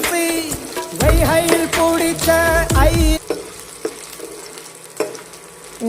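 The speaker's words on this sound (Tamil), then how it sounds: "பூண்டையும் நல்லா வதக்கிடணும் ஃப்ரெண்ட்ஸ்" Garlic cloves sizzle in a pan for a Tamil vallarai keerai thovaiyal, with crisp stirring clicks and scrapes. A loud melodic tonal sound fills the first half, then the frying continues alone.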